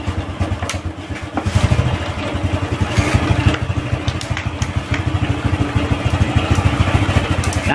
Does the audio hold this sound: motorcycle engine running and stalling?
yes